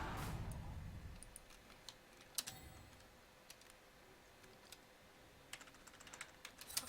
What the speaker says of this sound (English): Just type it out.